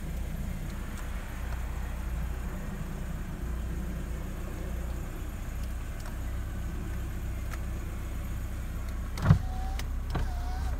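A 1991 Mercedes-Benz 190E 2.3 sits running quietly as its electric power windows whir briefly near the end over a steady low engine hum.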